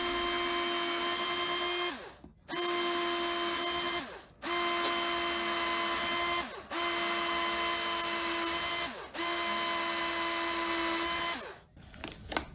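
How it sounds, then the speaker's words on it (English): A power drill with a 3/16 inch bit bores pilot holes through a taped-on template, with five loud steady whining bursts of about two seconds each, separated by brief pauses as the motor spins down between holes. "use a 3/16 inch bit to drill all the holes"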